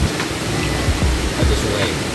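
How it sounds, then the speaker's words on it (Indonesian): Continuous rushing water of a flowing river at Mandalawangi Camping Ground, Cibodas, fills the scene, a steady broadband wash with faint indistinct voices beneath it. "Mungkin kalian akan mendengar suara sungai di depan kita ini."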